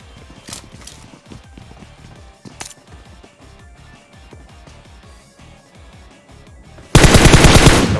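PUBG Mobile match audio: quick clicking, footstep-like taps and a couple of sharp isolated shots, then a loud sustained burst of close automatic gunfire at the end.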